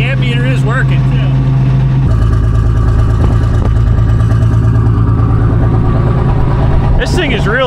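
Army tank engine running loud and steady through its muffler, a deep continuous rumble close by with someone talking over it.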